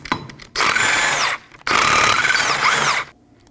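A power tool spins off 19mm lug nuts on the rear wheel of a Ford Transit Connect in two loud whirring bursts, each about a second long, separated by a short pause.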